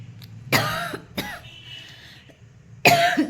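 Several sharp coughs close by, separated by short pauses, with a louder harsh cough at the end.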